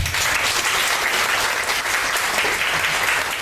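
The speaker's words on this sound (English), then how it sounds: "Wow, clap." Audience clapping at a yoga lecture, a close, dense burst of many hands applauding steadily throughout with no talk over it.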